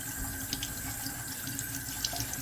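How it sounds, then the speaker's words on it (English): Water trickling and splashing steadily from a wet kitchen scrubber held near a sink, a continuous close running-water sound with faint drips, no talking. "I'm sorry if it's making people want to pee because the water's dripping out of here."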